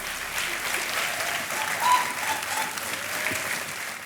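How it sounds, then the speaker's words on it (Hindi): A studio audience on a televised quiz show claps steadily throughout, a dense, sustained round of applause with a brief swell in the middle. "एक और चेक आ गया है, तालियां बजती रहे इनके लिए।"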